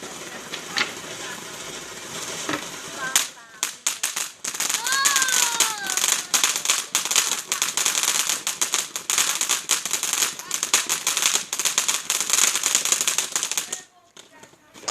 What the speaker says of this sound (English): Once the fireworks go off, it's like gone all dark, doesn't it?